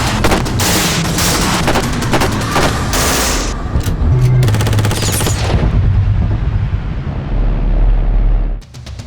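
Heckler & Koch 416 rifle fire at an outdoor range, loud and continuous, with rapid overlapping shots and heavy booming echoes that fade out at the end.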